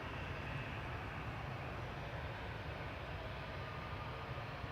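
A Jet2 airliner taxiing at Manchester Airport gives off a steady, moderately distant jet engine roar with a low rumble that holds unchanged throughout.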